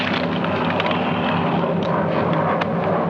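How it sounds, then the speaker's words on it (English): Enemy airplanes approach from a distance as a sustained, droning engine rumble under a rough, noisy background in a 1943 war film. "3 enemy planes approaching from the east."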